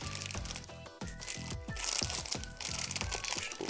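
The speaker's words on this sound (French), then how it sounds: "Voici la bête, on va la déballer." Plastic and cardboard packaging from a Behringer 302 USB audio interface crinkles and crunches continuously through an unboxing, with sharp rustling bursts and tearing close to the mic, no talking.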